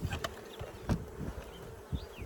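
Honey bees buzz around hives in a bee yard, a close, continuous drone with individual bees passing by the listener.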